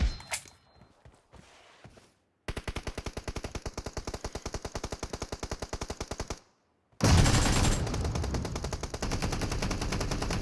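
AKM and M416 rifles fire in a shooting video game: scattered shots, then a long, even run of rapid automatic fire, a short pause and another loud, dense burst, with no voices.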